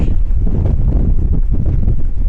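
Strong coastal wind beside a lighthouse on Anglesey buffets the microphone in a loud, continuous low roar that gusts throughout, with no voices over it.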